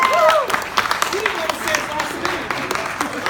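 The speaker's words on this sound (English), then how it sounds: "Everybody give a big round of applause for Majestic's man himself" Scattered applause and cheering from the audience at a live show, sparse claps under voices and whoops rather than a dense ovation.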